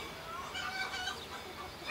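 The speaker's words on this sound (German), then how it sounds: "Ich bewundere die Hühner" Hens of old Alpine chicken breeds clucking softly, a faint scattered flock murmur with low background noise.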